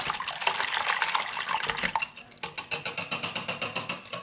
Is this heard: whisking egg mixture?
yes